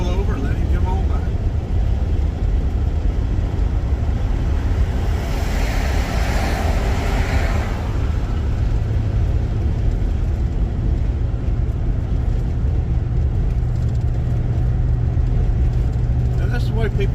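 A truck passing a slowing car on US Highway 301 near Folkston, Georgia, a broad whooshing rush that swells briefly over steady road and engine rumble inside the car, with people talking.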